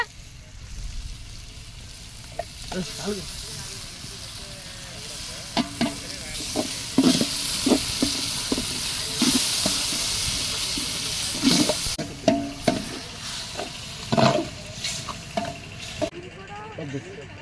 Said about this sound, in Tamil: நல்லா வதங்கறதுக்காக மத்த போட்டு கொஞ்ச நேரம் அடிச்சுக்கலாம்